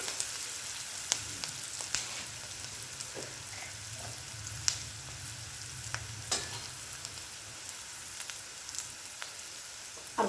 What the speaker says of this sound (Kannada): ಅರಿಶಿನ, ಸ್ವಲ್ಪ ಚೆನ್ನಾಗಿ ಫ್ರೈ ಆಗಬೇಕಾಗುತ್ತೆ.